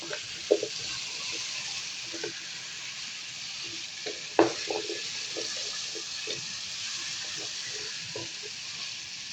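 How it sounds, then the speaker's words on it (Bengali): Taro stolons and dried ribbonfish sauté in a pan, a steady, even sizzle running throughout with scattered clinks and scrapes of stirring, one sharper knock partway through, and no talking. "আমি কিন্তু এই তো কচুর মুখিটা খুব সুন্দর করে কষাইতেছি"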